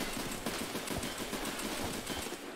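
Rapid automatic gunfire in the video game Escape From Tarkov, a dense, steady burst of shots lasting a couple of seconds at moderate loudness with no voices over it.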